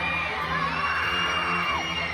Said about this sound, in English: Come on, join together, my young friends. We cheer for them.